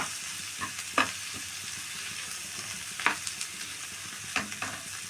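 Mashed peas and potatoes for pav bhaji fry in a pan with a steady sizzle, broken by a few sharp scrapes and stirring knocks of a spoon against the pan. No one speaks.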